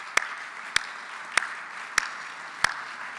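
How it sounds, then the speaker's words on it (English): At a summer meeting plenary session on infrastructure, a handful of sharp, separate hand claps ring out at a slow, even pace, five distinct claps over a quiet room background. "Please give the good governor and the First Lady a round of applause."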